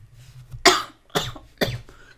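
Three sharp coughs ring out close by, evenly spaced about half a second apart, with quiet between them.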